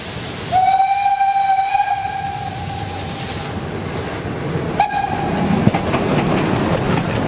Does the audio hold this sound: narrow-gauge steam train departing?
yes